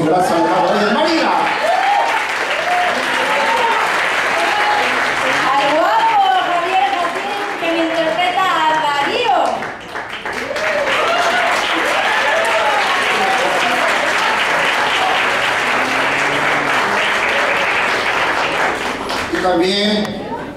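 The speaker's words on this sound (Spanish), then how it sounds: "suena fuerte el aplauso para recibir a Marimar Vega en el papel de Laura" Sustained loud audience applause at a red carpet presentation for the play Las Trampas del Deseo, a dense crowd clapping continuously for about twenty seconds with a brief dip midway, cheers and voices mixed in.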